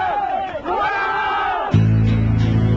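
A crowd cheers and shouts in unison at the release of prisoners, a short swelling roar of many voices, followed by a sudden shift to a steady low hum.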